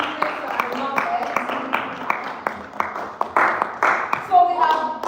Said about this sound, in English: Please clap for the business and numbers.